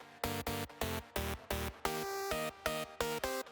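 A synthesizer plays a plain, bright sawtooth-like init-style preset in short rhythmic stabs, with several evenly spaced notes and one longer held chord midway.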